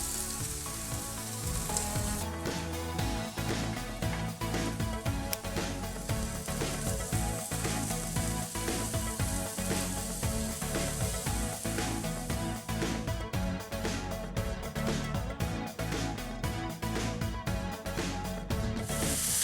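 Garlic and ginger paste with broccolini fries in a pan for pan-fried tofu, a dense, continuous sizzle with occasional stirring scrapes, close and steady, no voices.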